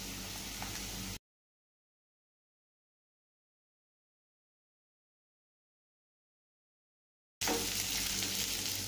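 Curry leaves and green chilies hit softened onions in a pan for a brinjal potato gravy, giving a steady broadband frying sizzle that breaks off for several seconds of silence and then resumes just as strongly.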